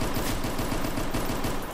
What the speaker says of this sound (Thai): เรายิงมั่วๆฆ่าคนได้เฉยเลยว่ะ